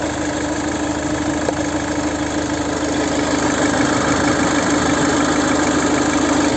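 The 2.0 TDCi 140 hp diesel engine of a 2014 Ford Kuga 4x4, warmed to 90°C, idles steadily up close, a constant low rumble with a faint rattling knock and no voices.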